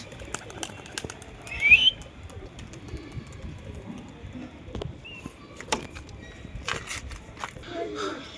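Pigeons are released into flight, with scattered wing flaps and rustles, a brief louder flutter, soft cooing and footsteps nearby, heard under someone talking.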